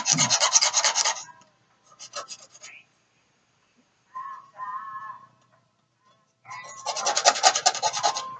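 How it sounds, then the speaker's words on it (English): A knife blade scrapes a paper label off the side of a plastic bottle being made into a homemade mud jug, in three close rasping bursts separated by pauses, with a brief clatter between them. "I take knife, scrape it on the side, get that white shit off"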